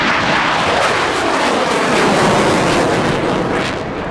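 A Polish Air Force MiG-29 jet on a low approach at an airshow, its engines giving a loud, continuous roaring rumble that swells and holds close by, with no talk over it.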